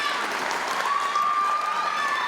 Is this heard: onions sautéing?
no